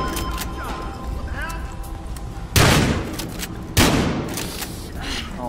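Gunfire in the video game Battlefield Hardline, two loud sharp bursts standing out over a busy backdrop of game noise and a talking voice.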